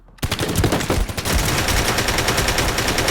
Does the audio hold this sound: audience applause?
no